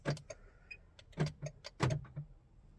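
Central locking of a Volkswagen car actuates with a newly synced key, giving a quick series of sharp mechanical clunks and short motor whirs, close and fairly distinct, with no voices.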